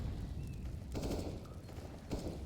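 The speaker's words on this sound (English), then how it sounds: "Bit of gunfire around banana" Gunfire in a CS:GO match rattles in quick bursts around banana, steady mid-distance shots and sprays repeating over continuous in-game background noise, with no voices.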